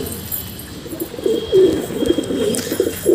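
Pigeons coo close by in a nesting box holding eggs, soft low throaty calls repeating in short bursts over a quiet background.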